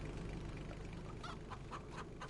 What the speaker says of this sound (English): We got lots of birds here.